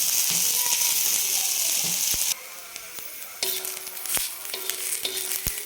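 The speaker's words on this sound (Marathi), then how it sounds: "याच्यामध्ये कांदा टाकून घेऊ कांदा पण आपल्याला एकदम चांगला लाल भाजायचा आहे" Onion with grated coconut frying in oil on a pan for a Maharashtrian black mutton masala, a loud steady sizzle with sharp scraping and ratcheting stirs of a spatula against the pan, no talk.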